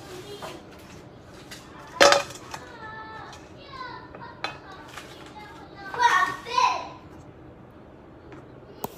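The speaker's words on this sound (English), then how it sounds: "Kids are busy right now. They're playing" Children play and chatter in the background of a home kitchen, their high voices rising in bursts, mixed with scattered clinks of dishes and utensils close by.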